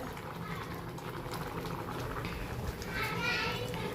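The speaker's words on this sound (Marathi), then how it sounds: "इथं डाळ शिजायला घातली गॅसवरतीच" Dal cooks in a pot on a gas stove with a soft, continuous bubbling, heard under children's chatter and nearby voices, with a brighter hissing swell near the end.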